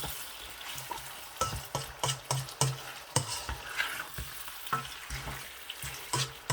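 Biryani ingredients with salt being stirred in a pot over heat, a steady sizzle punctuated by repeated clanks and scrapes of a spoon against the metal, close and moderately loud.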